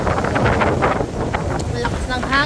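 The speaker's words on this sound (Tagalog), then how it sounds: "Malakas ng hangin" Strong wind at sea during a storm, with waves building and rain coming, roars in steady, buffeting gusts that batter the microphone, loud and close throughout.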